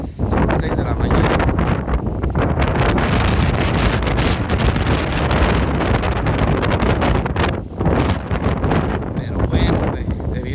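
Strong wind blows in the San Diego desert, a loud, unbroken roar of gusts buffeting the microphone throughout.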